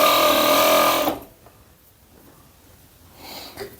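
A sewing machine runs a loud, steady burst of stitching along the crotch seam of a child's long-sleeved pajama, stopping after about a second and leaving only faint handling noises.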